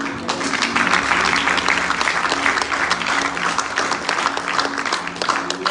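Church congregation applauding in a sustained, dense burst of clapping that stays steady and loud throughout, with no voices rising above it.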